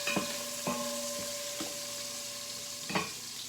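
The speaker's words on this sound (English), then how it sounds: "Watch your onions, don't let them burn." Onions fry in a pan for homemade butternut squash soup, giving a steady low sizzle with a few sharp scrapes of stirring spaced through the short stretch.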